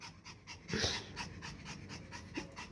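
A dog pants in quick, rhythmic breaths close by, one louder burst near the start, in a household where two dogs of the same breed are squabbling over territory.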